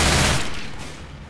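Sustained burst of gunfire from Left 4 Dead 2, loud and dense with rapid overlapping shots, fading slightly over a little over a second with no talk.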